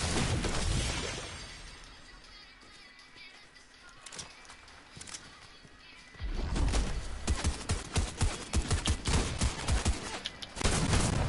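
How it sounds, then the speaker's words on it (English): Gunfire in a video game, a quiet stretch broken by scattered single shots and then a loud, rapid flurry of repeated bursts and crashing impacts toward the end, with occasional voices. "Where'd those shots come from?"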